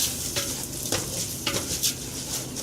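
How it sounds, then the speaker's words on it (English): Raw rice poured into hot oil seasoned with salt in a pot for Somali rice with goat meat, stirred with a steady close sizzle and scraping strokes, no talking. "Now I'm adding the rice here."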